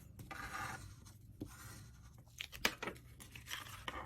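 A card is folded over and pressed onto its own exposed adhesive while making a pillow box, giving soft paper rustles, scratchy rubs and a sharp crease-like snap, close and quiet.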